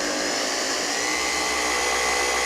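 Car polisher running with Overhaul 1000 heavy cut compound, a steady loud high-pitched motor whine that holds constant and close throughout with no talking.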